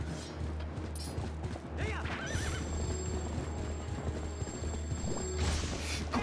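A horse in a Zelda video game gives a loud, wavering whinny partway through, over a steady low hum and scattered hoof clatter. No one speaks.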